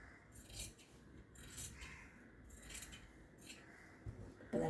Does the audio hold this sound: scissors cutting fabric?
yes